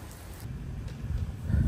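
Rain falls in a steady, low rushing wash outdoors, a continuous hiss with no talking.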